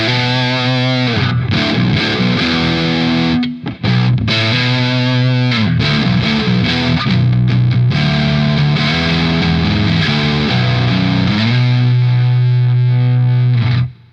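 Heavily distorted baritone guitar played through a Laney Ironheart Loud pedal with the bass boosted, loud sustained chords and riffs with thick low end, ringing alone without any talk.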